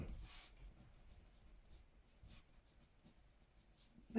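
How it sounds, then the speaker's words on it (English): A pen scratches across a postcard in short, faint strokes at close range, quiet and intermittent against a hushed room, with no voices. "I'm writing these as if I'm writing them to my mum"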